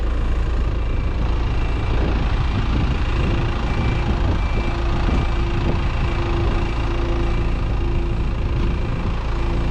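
A tractor engine idles with a steady, loud low rumble, then pulls away while towing a Steketee cultivator, the heavy drone continuing unbroken throughout with no voices.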